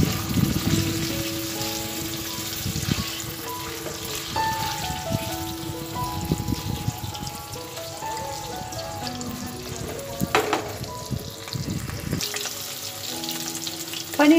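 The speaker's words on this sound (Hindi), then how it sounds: "कढ़ाई में 2 चम्मच तेल गरम कर लिया है, अब इसमें पनीर को फ्राई कर लेंगे।" Fresh paneer fries in two spoons of hot oil in a kadai, a moderate crackling sizzle running steadily underneath louder background music, with an occasional faint clatter.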